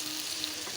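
Meat, potato, garlic and chopped chilli sizzle briefly in a pan as they are stirred, a soft, steady frying hiss.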